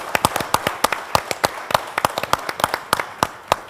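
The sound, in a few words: applause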